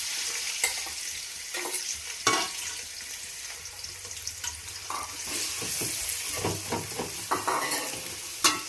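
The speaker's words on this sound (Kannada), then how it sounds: "ಎಣ್ಣೆ ಕಾದ ನಂತರ ಎಣ್ಣೆ ಬಿಸಿ ಆಗಿದೆ. ಇವಾಗ ಫಸ್ಟಿಗೆ ಈರುಳ್ಳಿ ಹಾಕೋಬೇಕು." Onions drop into hot oil in a pan for an egg masala, setting off a steady, close sizzle punctuated by sharp scrapes and clinks of a spoon stirring against the cookware.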